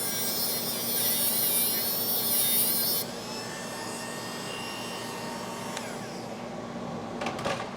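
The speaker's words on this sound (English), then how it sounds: "I'm just using this little grinder tool here" A small grinder tool works on a fabricated metal pan for a 1967 Firebird ram air system, its high-pitched whine loud and steady for a few seconds before cutting out, leaving a quieter hum and a few scrapes.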